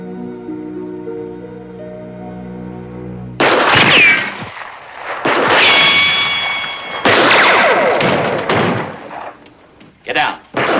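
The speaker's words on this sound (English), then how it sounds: "It was a gunshot. I heard it." Several sharp, loud gunshots crack in a 1957 western film scene, separated by bursts of shouting and dialogue, after a quieter stretch of musical score at the start.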